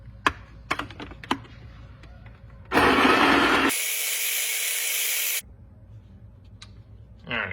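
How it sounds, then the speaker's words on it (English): A coffee grinder grinds freshly weighed beans for a V60 pour-over. A few sharp clicks and taps come first, then a loud burst of grinding lasting about three seconds, shifting to a higher, steadier whir before it stops. "I'm gonna throw this in our grinder"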